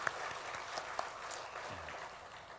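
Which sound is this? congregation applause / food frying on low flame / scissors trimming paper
congregation applause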